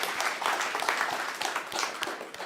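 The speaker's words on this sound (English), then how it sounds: "a round of applause for" Audience applause for a school-district and parks partnership pledge at a public event in Spokane, a steady crowd clapping that fills the room at moderate level, with faint voices mixed in.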